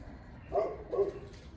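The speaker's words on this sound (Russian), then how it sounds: "А вон, кстати, собака за забором." A dog behind a fence gives two short barks, close together and moderately distant, over quiet outdoor background noise on a seaside walk.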